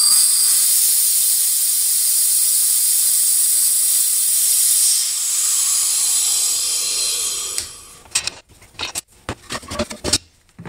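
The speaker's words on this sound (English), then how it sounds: "We slowly let the air out and start pulling it out." Compressed air hissing steadily out of a pressure pot after resin casting of Banksia pod pen blanks, a loud continuous bright hiss for several seconds, then cut off, followed by clanks and handling noises.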